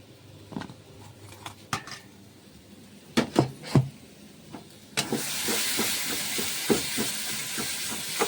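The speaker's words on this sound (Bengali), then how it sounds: "এইদিকে মশলা ফ্রাই হচ্ছে" Spices frying in a pan for a kabuli chana curry with potatoes, a steady broadband sizzle that starts abruptly midway and holds loud, with a few earlier clinks and knocks before it.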